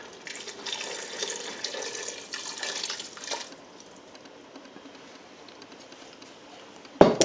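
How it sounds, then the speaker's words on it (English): About a cup of water is poured into a pot of chili, a soft splashing trickle lasting a few seconds before fading to quiet, followed by a sharp knock at the end. "now we're going to add some water. Not a whole lot, about a cup."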